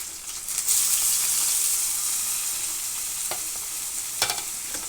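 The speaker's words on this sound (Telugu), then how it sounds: "చూడండి తురిమింది ముల్లంగి తురిమినది వేస్తున్నాను" Grated radish frying in a pan for a radish stir-fry, giving a steady broadband sizzle with occasional stirring scrapes, close and continuous throughout.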